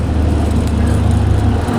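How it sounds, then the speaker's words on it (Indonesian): A heavy sand truck passes close on a busy road on a morning ride near Semarang, its loud steady engine rumble and road roar filling the whole stretch. "Wah ini truk pasir ini."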